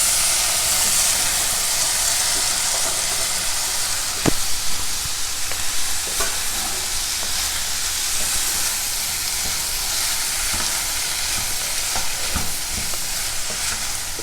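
Potatoes and mixed vegetables sautéing in butter in a pan, a steady close sizzle with a soft hiss, a few light stirring clicks, and no voices.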